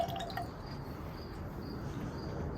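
Fresh apple cider trickles into a cocktail shaker, a soft, faint liquid gurgle and drip lasting a couple of seconds.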